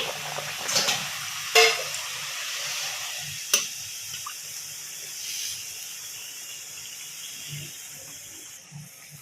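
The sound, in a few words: sawari dough frying in oil on medium heat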